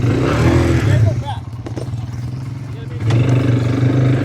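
A motorcycle stuck in desert sand revs its engine, a rough low roar that rises, dips and surges again, heard up close with some clattering.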